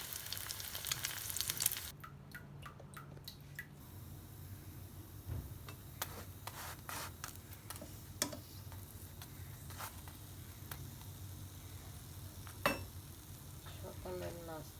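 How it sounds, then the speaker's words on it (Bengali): Two parathas frying in a pan for breakfast, a faint low sizzle running under scattered clicks and taps of cooking utensils. "সকালের নাস্তার জন্য 2টা পরোটা ভেজে নিচ্ছি।"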